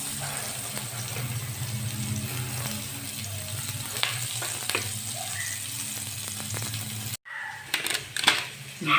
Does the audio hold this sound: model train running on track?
no